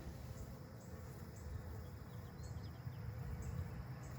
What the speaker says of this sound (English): I've noticed a lot of more honeybee activity